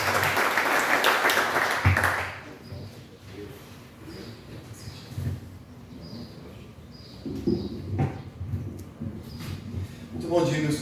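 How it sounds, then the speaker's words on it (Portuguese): Church congregation applause during a Sunday worship service, loud clapping for about two seconds that quickly fades out, followed by quiet room sound, some faint shuffling and a few brief voices. "Aplauda o Senhor bem forte."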